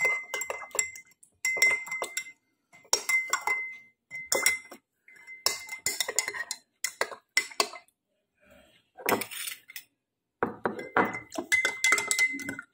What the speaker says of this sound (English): make this solution saturated by mixing the salt and water properly